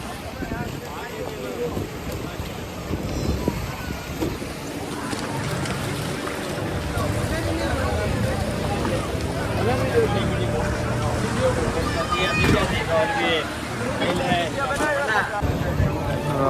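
Tourist boat at Shivrajpur Beach, Dwarka, starting up: a steady engine drone builds under wind buffeting and water noise, with people talking on board throughout.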